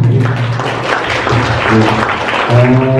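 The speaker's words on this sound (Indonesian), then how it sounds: "Beri aplaus untuk beliau." Audience applause at an Indonesian public speaking session, a steady wash of clapping from a crowd with voices mixed in underneath, continuing at an even level throughout.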